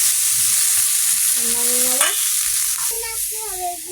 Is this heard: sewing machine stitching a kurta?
no